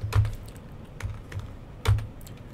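Keys tapped on a computer keyboard entering a Power BI formula, a few sparse clicks in uneven bursts, close and fairly quiet with no talk.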